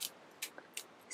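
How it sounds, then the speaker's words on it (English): Three quiet, crisp snips of scissors cutting thin crepe paper, evenly spaced and close by. "grab my scissors and just cut a really small"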